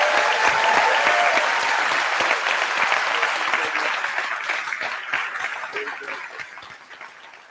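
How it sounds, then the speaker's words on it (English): Sustained crowd applause for the governor at a high school commencement ceremony, dense clapping from a large audience that starts loud and gradually fades over several seconds. "Please join me in giving our very own Governor Cooper a round of applause."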